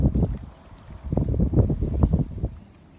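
Cold wind gusts by a river, buffeting the microphone with low, loud rumbling surges that rise and fall, with no talk.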